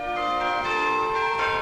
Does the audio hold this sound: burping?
no